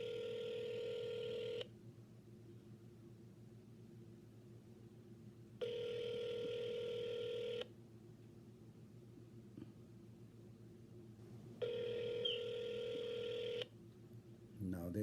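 An outgoing telephone call to an insurance office that goes unanswered, with three long ringback tones about two seconds each, separated by quieter gaps with low background hum.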